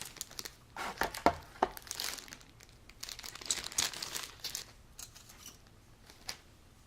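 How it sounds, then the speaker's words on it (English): Scissors snip and crinkle through a plastic bag holding parts of an Academy Spad XIII model kit, with a run of close, irregular cuts and rustling crackles and no talking. "now I will have to open this bag"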